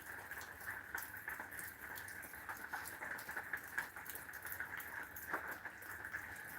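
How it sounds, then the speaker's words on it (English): Steady rain falls and patters on surfaces outdoors near bird feeders under an awning, a soft continuous hiss with scattered droplet ticks, faint and even throughout. "the rain sounds so lovely"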